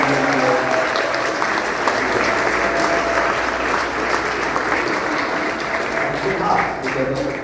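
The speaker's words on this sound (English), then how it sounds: "So let's give a big round of applause for all our hard work." A crowd applauds steadily and loudly for campaign volunteers at a Scarborough Rouge Park Ward 25 campaign launch. The clapping is continuous and even throughout, with a faint voice or cheer now and then.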